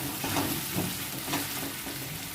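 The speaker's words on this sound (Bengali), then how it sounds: "আদা রসুনটাকে আর লঙ্কাটাকে ভালো করে একটুখানি কষে নিয়ে" Ginger, garlic and green chili sauté in a hot pan with a dense, continuous sizzle, pulsing softly as they are stirred.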